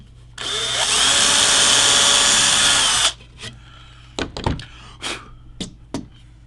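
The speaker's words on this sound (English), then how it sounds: "Let's do a test hole and make sure that we've got the right drill bit" A power drill bores a test hole into a guitar neck, a loud steady whine lasting about three seconds, followed by several short knocks and handling clatters nearby.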